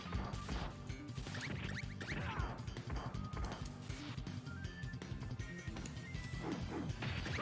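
Repeated smashing and whacking hits from a giant sword swing in the arcade beat-'em-up The Ninja Saviors: Return of the Ninja Warriors, dense crashing impacts with glassy high ends coming in quick irregular succession over busy game sounds, with no talking.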